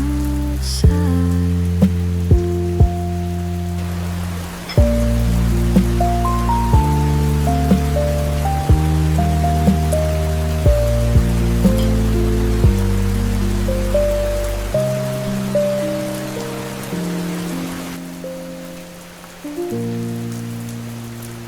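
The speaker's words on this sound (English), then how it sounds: "the rain is coming down" Steady rain falls outside as a soft, even hiss under mellow lo-fi music of gentle piano-like notes, continuous throughout with no voices.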